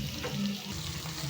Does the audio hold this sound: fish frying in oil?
yes